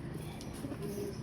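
A Parel pigeon coos close by, a soft, throaty rolling coo held over a steady background for about a second.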